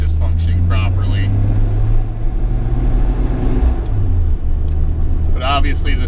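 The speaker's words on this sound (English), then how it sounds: "I'm going to go ahead and let it rev up a little bit and see if I can get some more oil pressure" A 26-year-old car's engine revs while driving, a loud steady rumble with rising and falling pitch, while a person talks over it throughout.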